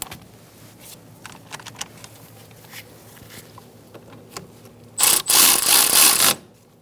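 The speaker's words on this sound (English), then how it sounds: "now we're going to snug up both with a 12mm socket" A 12mm socket ratchet tightening rear brake hose bolts on a 2014-2018 Subaru Forester: scattered light clicks and handling noises, then a loud, close burst of rapid ratcheting lasting about a second and a half.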